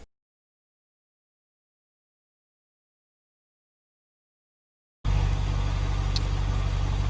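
Truck engine idling in the BeamNG Drive driving game, parked at a gas station lot on the East Coast USA map: a steady, low mechanical rumble that starts abruptly after about five seconds of silence and holds evenly to the end.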